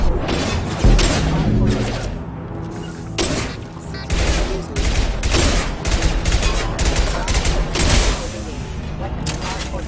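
Shotgun fire in the sci-fi shooter Mass Effect 2: loud, repeated heavy blasts in quick succession with booming impacts and mechanical clatter, overlapping with combat voices calling out.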